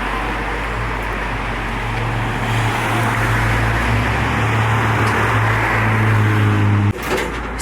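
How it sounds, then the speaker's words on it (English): Heavy traffic on a very busy main road rushes past continuously, a loud broadband roar with low engine rumble from passing vehicles, ending in a sudden thud near the close. "Sorry about the road noise, my brother's currently loading up on the pavement of a very busy main road"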